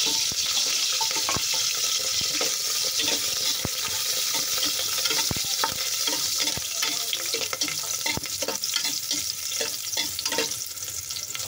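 Ginger dropped into hot cooking oil for Filipino tinulang manok fries with a steady, loud sizzle, broken by sharp crackles and spatters throughout, with no talking.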